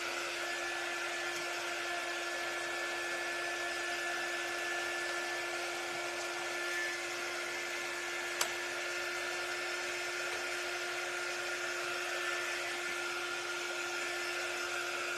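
A hair dryer runs steadily and continuously on a boho craft piece being dried, a constant whirring airflow hum at close range with no talking.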